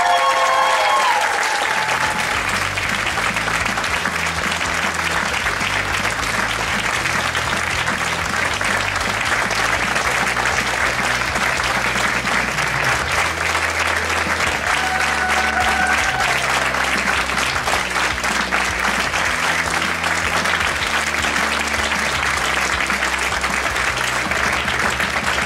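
An audience at a Polish Toastmasters championship award ceremony gives long, loud, sustained applause, steady dense clapping throughout with music playing beneath it.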